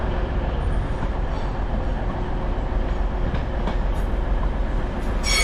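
A Transport for Wales Class 197 train approaches through a station, a steady loud rumble of wheels and motors with faint rail clatter and a brighter squeal or hiss building near the end.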